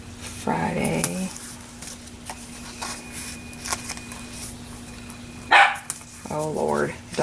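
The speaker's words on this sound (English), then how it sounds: "dog barking" A dog barks in short bursts, first near the start and again toward the end, with a sharp bang partway through and a steady hum running underneath.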